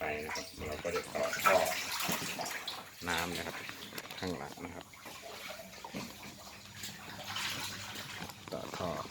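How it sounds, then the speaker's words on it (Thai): Water runs and splashes out of the drain at the bottom of a 1000-liter catfish tank, a steady trickling flow heard under ongoing talk by a man. "ข้างล่างก็น้ำออกนะครับ"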